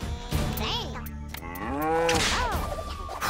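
A cow moos in the rhythm video game Headbangers: Rhythm Royale, with several drawn-out, wavering calls in quick succession that sound close and loud over game music.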